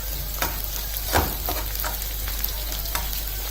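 Ash gourd and shrimp frying in a pan give a steady low sizzle with a few sharper stirring scrapes scattered through, close and fairly quiet, with no talk.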